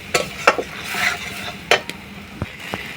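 Mustard paste with spices frying and being stirred in a pan for a sour mango and shol fish dish, with a low steady sizzle broken by sharp spatula scrapes and clacks against the pan.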